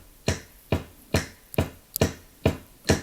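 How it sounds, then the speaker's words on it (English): A steady electronic beat: a deep kick thumps on every count, with a sharp snap layered over beats 2 and 4, looping evenly for several bars. "the kick drum is on all 4 beats, and the snap is on 2 and 4"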